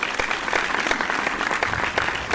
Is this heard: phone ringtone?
no